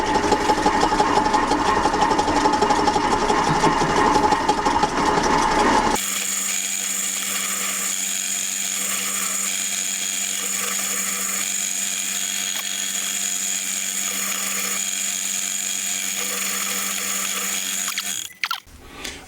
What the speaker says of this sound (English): we're ready to drill this counterbore, and I'll put some oil on the counterbore and the hole